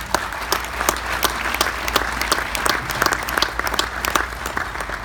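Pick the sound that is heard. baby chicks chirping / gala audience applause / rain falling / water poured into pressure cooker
gala audience applause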